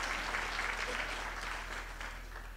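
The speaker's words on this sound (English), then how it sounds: "Let's give them a big round of applause," Audience applause at a university graduation ceremony on a main campus, a steady dense wash of clapping that holds at even strength throughout, somewhat distant and reverberant.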